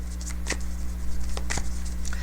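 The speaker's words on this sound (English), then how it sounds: "Let's shuffle the deck." A deck of tarot cards is shuffled up close, giving a few short papery riffles and flicks over a steady low electrical hum, with no talking.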